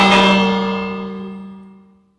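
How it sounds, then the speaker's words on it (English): A single strike on a handmade bell rings out loud and close, a bright clang with a strong low hum that fades smoothly away over about two seconds, no voices. "And what else but to ring the bell?"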